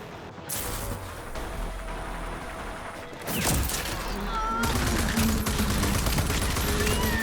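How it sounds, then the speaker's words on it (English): Gunfire in the Wasteland video game: a steady muffled battle din gives way to a loud, dense barrage of rapid shots in the second half, with some speech mixed in. "What are they shooting at?"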